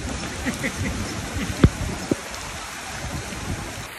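Heavy rain from Typhoon Carina pours as a steady broadband hiss in a flooded area, with a couple of sharp knocks or splashes standing out in the middle.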